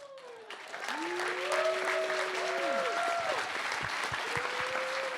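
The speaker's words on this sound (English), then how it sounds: "could you please stand up and let's give you a round of applause" Audience applause for volunteers at a hackathon closing ceremony: clapping swells after about a second into a steady, dense round that carries through, with a few voices and tonal sweeps layered over it.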